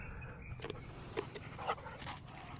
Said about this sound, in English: There's our wet dog.